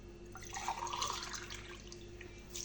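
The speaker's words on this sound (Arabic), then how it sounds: "نزيدو معاهم 4 كيسان تاع الماء" Water from a glass pours into a cooking pot for apple tajine, a soft, faint trickle lasting a couple of seconds.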